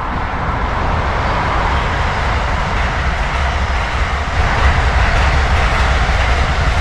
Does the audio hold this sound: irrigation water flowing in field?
no